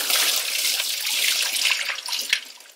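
Ginger going into boiling water in a Korean kitchen: bubbling, splashing water close by, with a small thump near the end and no talking.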